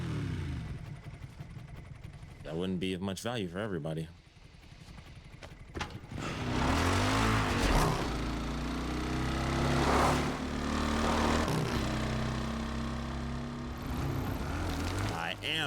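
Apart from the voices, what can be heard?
motorcycle engine riding, Resident Evil Requiem video game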